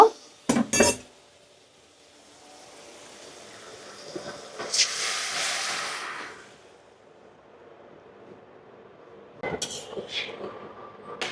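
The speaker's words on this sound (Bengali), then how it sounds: "ভালো করে আমি এখন মিশিয়ে নিব" Lentils and bottle gourd being stirred in a cooking pot: a couple of sharp metal clinks of spoon on pot, a soft hissing steam burst in the middle, then more scraping clatter near the end, close and quiet.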